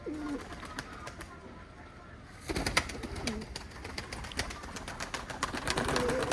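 A fresh white tula pigeon, a highflying breed, coos repeatedly in low rolling phrases, fairly close, over a faint rustling background that grows busier midway.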